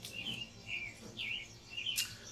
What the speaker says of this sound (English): They sing a very random sort of song.